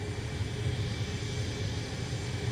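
Airliner jet engines idling and running at Dublin Airport, with a TAP Express aircraft lined up for departure to Lisbon, give a steady, continuous low rumble at moderate distance, broadband and unbroken with no talk.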